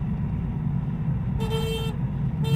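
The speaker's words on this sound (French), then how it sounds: "Cela m'incite à klaxonner à l'identique" A car horn sounds in two short honks over the steady low road rumble of a moving vélomobile in autumn traffic, the first toot longer, the second brief at the very end.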